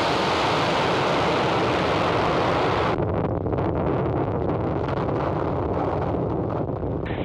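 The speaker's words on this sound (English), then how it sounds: "Ignition. And liftoff of Falcon 9." SpaceX Falcon 9 rocket engines at liftoff from California, a loud, steady broadband roar that thins into a ragged, crackling rumble, with no voices.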